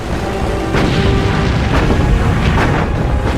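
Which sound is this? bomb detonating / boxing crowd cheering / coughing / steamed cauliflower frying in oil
bomb detonating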